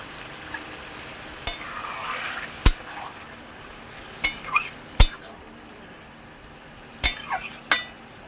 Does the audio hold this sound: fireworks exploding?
no